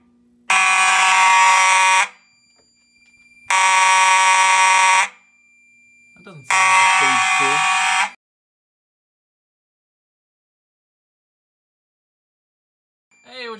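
Older Simplex fire alarm horns sounding their second stage in a home system test, three loud blaring bursts of about one and a half seconds each separated by silence, close and harsh, with a faint start of another at the end.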